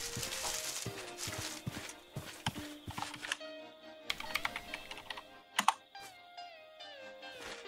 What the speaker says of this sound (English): You don't have to keep typing it.